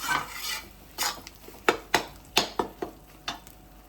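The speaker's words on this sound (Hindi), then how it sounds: "अगर सुन सकते हो तो आवाज भी आएगी क्रैकलिंग की" Scraping stirs in a pan as edible gum roasts in flour, with small sharp crackles and pops, several distinct snaps rising over a soft sizzling background.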